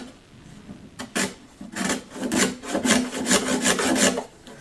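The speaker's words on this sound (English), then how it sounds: "now I'm taking a razor sharp scraper and I'm just getting rid of the remnants of kerfing." A razor-sharp scraper removes leftover kerfing wood from inside a 1930s SS Stewart guitar, making a series of close, dry rasping strokes in quick irregular rhythm.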